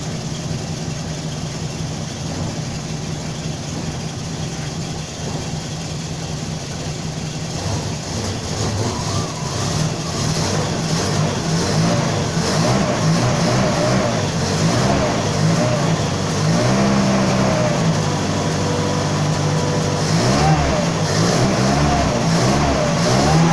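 A Simca Aronde Plein Ciel car engine runs loud and close, idling steadily before revving up and holding higher, with a few voices faintly underneath.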